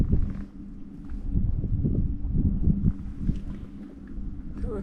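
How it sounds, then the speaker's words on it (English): Wind gusts buffet the microphone in an ancient desert canyon, a steady low rumbling roar that swells and dips throughout with no voices. "Oh no, it's getting windy."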